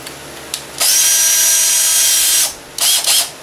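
A power drill bores a small hole into birdhouse wood, with a short blip followed by a loud, steady whine of about two seconds and then a brief second burst.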